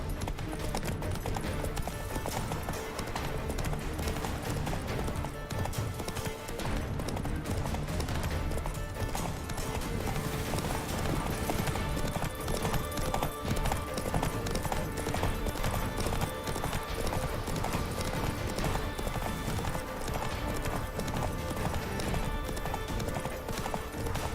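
In The Witcher 3, the horse Roach gallops at full speed, a rapid, continuous clip-clop of hooves that stays close and steady, with a brief whinny and a game soundtrack underneath.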